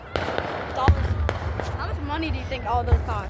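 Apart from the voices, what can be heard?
4th of July fireworks exploding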